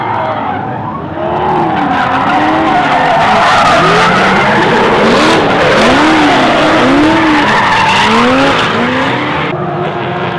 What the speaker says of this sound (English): I guess Caleb's not done driving because he's right on Quinn's ass.